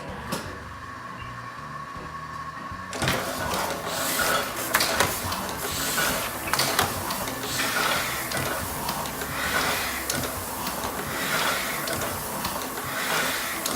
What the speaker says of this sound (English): I'm gonna turn it on, and what's gonna happen is this big steel wheel is gonna roll, and all these ink distribution rollers are gonna roll